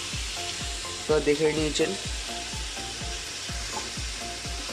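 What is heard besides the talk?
stirring vegetables frying in a pan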